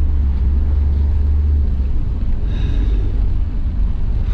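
Heavy trucks coming off the highway near Panjin in northeast China in winter, a constant deep engine rumble with a brief higher whine midway, steady and close, no talking.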